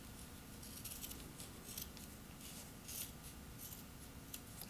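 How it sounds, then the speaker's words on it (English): Scissors snip through fabric applique pieces for a quilt block, making faint, intermittent crisp cuts with soft rustling between them in a quiet room. "Okay, got it all cut out."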